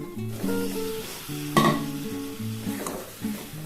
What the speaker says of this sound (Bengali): ভালো করে এটা কষিয়ে নেব, যাতে পেঁয়াজের কাঁচা গন্ধটা একেবারেই না আসে।